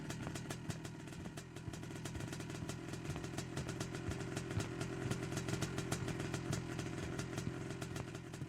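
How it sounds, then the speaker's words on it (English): A motorbike engine idles in a horror video game, a quiet steady mechanical chug with fast rhythmic clatter that carries on unchanged throughout. "Hey, who killed the motorbike?"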